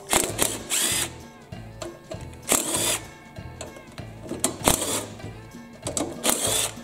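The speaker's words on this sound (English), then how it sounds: "It's nice having one of these battery powered tools. Makes it faster." A battery-powered drill or driver spins out screws on a Kohler Command small engine in short bursts of whirring, several loud pulses separated by pauses, close up with ratcheting clicks.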